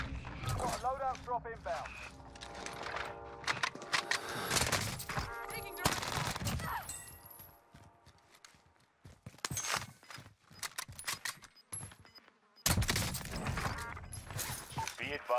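Gunfire in a Warzone match: rapid bursts of automatic shots and single cracks come in clusters over about fifteen seconds, with an in-game radio voice and a player talking between them.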